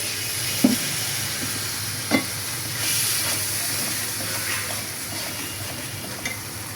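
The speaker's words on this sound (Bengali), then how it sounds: "গুঁড়া মশলা আছে যেহেতু একটু পানি দিয়ে দিই।" Water poured onto a sizzling spice paste in a pan gives a hissing, steaming fry with a few sharp spatula taps early on, then settles into a steady close sizzle.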